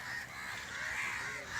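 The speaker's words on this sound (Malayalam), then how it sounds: "ഹസൈനാരെ കണ്ടാൽ കാക്കകളും കൂട്ടത്തോടെ എത്തും." A flock of crows gathers at a beach, their harsh caws and squabbling calls sounding continuously and fairly close for a short moment.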